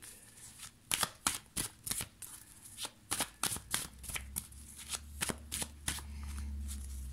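Playing cards are shuffled by hand over a coffee table, giving rapid papery riffles and soft slaps in quick bursts, close and fairly quiet, with a low hum creeping in near the end.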